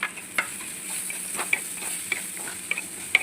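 Carrots and green beans sauté in oil on low heat, a constant close sizzle with sharp little ticks and scrapes as a spoon stirs them now and then, heard alone without talking.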